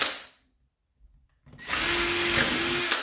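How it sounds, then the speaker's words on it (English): A power drill bores holes through a wooden shelf-hole template, starting after a brief silence and then whirring steadily and loudly at close range until the end. "what we're going to do is drill out all those holes."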